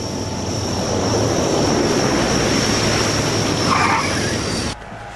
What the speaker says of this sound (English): The plane lands safely at Belgrade.